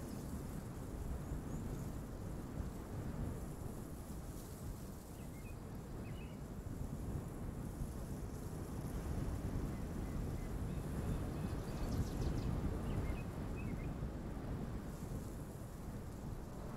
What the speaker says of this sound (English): we will hear the wind louder in one ear.